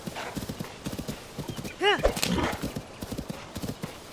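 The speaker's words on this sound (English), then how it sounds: "Come on, horsey, stop being stubborn." Horse from Zelda: Tears of the Kingdom ridden across north Hyrule, its steady clip-clop hoofbeats running throughout with a sharp rising-falling whinny near the middle, someone talking over the hooves.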